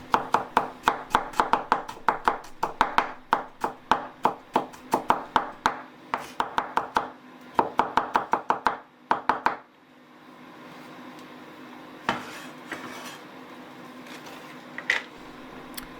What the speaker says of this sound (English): Finely chop